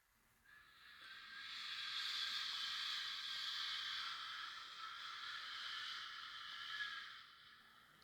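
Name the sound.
voice imitating rustling forest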